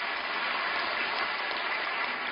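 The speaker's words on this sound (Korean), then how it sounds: "우리 하나님께 큰 영광의 박수 올려드립니다." Congregation in a church clapping together, a dense, even wash of applause filling the whole short stretch at a constant level with no gaps or voices.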